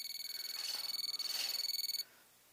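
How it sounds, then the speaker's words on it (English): Rapid, rhythmic electronic beeping at a high pitch from a voltage tester with fresh batteries, fairly faint, pulsing steadily for about two seconds before stopping. "it's louder, and it's beeping a lot blinking a lot faster"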